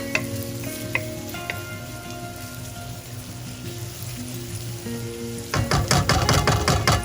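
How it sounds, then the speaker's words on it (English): Onions fry in a pan for spicy egg masala, a soft steady sizzle under gentle background music that grows busier and louder toward the end. "We're going to cook this for 3 to 5 minutes till the onions get discolored and cook"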